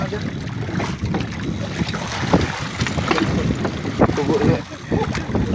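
Someone paddles a small boat or canoe on open water, with steady splashing and wind buffeting the microphone throughout, and scattered voices in the background.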